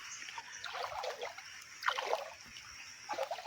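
Spring water trickles through a shallow stream in a rural field, making a soft, steady babble with light splashes that swell and fade at close range.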